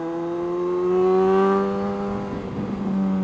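A motorcycle engine hums while riding, steady tonal droning that rises briefly in pitch and eases off, close and fairly loud with no talking.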